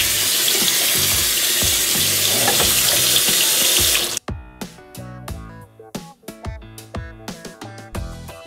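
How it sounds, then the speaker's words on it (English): Cool water runs steadily from a kitchen tap over freshly boiled, strained eggs in a sink for about four seconds, then stops, followed by scattered clinks and knocks of handling. "I'm just going to strain them, and then I'm going to run them under cool water"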